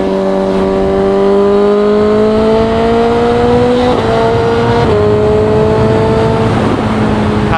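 A CFMOTO 750SRS motorcycle engine pulls hard at full throttle in 4th gear, a loud, steady rising whine with brief dips at gear or throttle changes, heard up close with wind noise.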